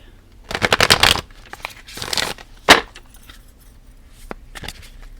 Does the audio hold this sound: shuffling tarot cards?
yes